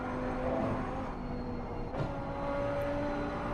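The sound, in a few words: race car engine in racing video game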